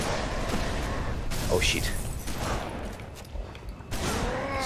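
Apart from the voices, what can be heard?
gunshots in video game Halo Reach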